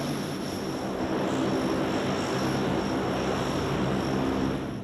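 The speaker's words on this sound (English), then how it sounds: "the Super Guppy climbs to cruise altitude" A four-engine Super Guppy transport aircraft, carrying an Orion space capsule, climbs toward cruise altitude after departing Mansfield-Lahm Regional Airport, producing a loud, steady, unbroken propeller and engine drone with no voices.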